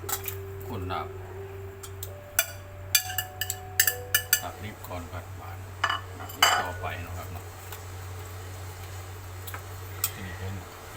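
Metal utensils clink and scrape against a pot as food is scooped in while cooking a Thai larb-style dish, with scattered sharp knocks and clatters over a steady low hum.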